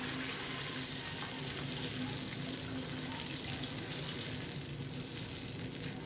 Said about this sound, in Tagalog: Maglalagay ako ng tubig bilang sabaw ng ating isda.